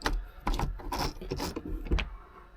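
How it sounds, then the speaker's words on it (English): Clamps come off freshly glued wood on a workbench during a jukebox build: a few close, scraping and ratcheting rasps with short knocks in uneven bursts, fairly quiet. "let's take the clamps off"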